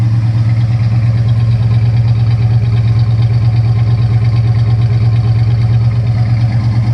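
The 340 V8 engine of a 1970 Plymouth Duster idles with a deep, steady, lumpy burble from its dual exhaust, close and loud, with no talking.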